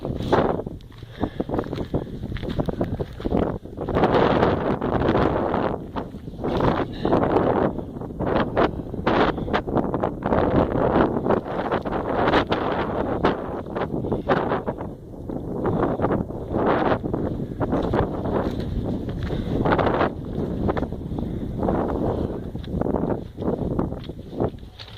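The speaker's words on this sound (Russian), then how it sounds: "начинается ветер." Strong wind buffets the microphone in continuous rumbling gusts near a railway ravine in Bendery, loud and steady for the whole stretch, with rustling bursts coming and going.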